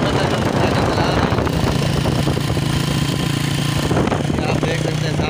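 A motorcycle engine labours as it is ridden through deep sand, a loud continuous rumble with uneven revving, mixed with dense background noise.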